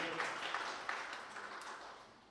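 An audience applauds at the White Square business forum and marketing and advertising festival, a steady, moderately soft wash of many hands clapping that fades slightly toward the end.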